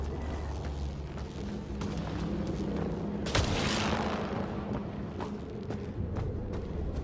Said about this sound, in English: Take a shot at that fuel cell.